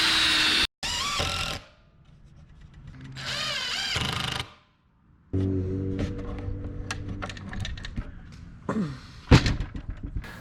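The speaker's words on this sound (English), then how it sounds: "I pre-drill the holes and add screws." Power drill whirring in bursts as holes are pre-drilled in wood for a DIY drill and battery cabinet, with short pauses and handling clatter between runs.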